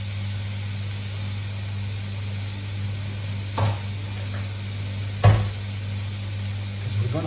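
Bacon sizzling in a frying pan as its fat renders, a steady hiss and crackle with a low background hum and a couple of louder clatters.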